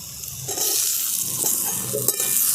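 Chopped tomatoes tossed into a pan of fried vegetables for shyama rice khichuri, a steady sizzle with scraping stir strokes throughout, close and fairly loud, no voices.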